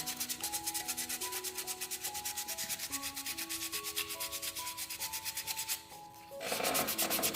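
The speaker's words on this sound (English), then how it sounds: "let's just use a little bit of finishing sandpaper" Scroll-sawn wood rubbed by hand with fine finishing sandpaper, a close, steady back-and-forth rasping that repeats quickly over a faint tonal background, then pauses briefly before resuming more strongly.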